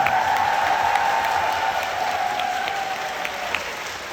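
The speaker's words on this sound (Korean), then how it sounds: "박수 한번 주실까요, 여러분?" Audience applause at a singer's fan event fills the hall, steady, dense and fairly loud for the whole stretch, with a faint sustained tone running underneath and no talking.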